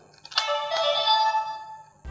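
A DX Legend Mobirate toy from Kaizoku Sentai Gokaiger gives its electronic power-on chime, a bright synthesized jingle lasting over a second, followed by a small click.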